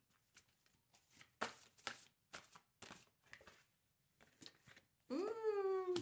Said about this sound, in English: let's put these cards on this side